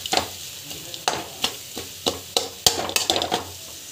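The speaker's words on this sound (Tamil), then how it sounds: "ஸோ ஜஸ்ட் வந்து நல்லா வதக்கிக்கோங்க." Food frying in a pan with chili powder crackles steadily, while about a dozen brisk, rhythmic stirring strokes scrape through it, quickening toward the end.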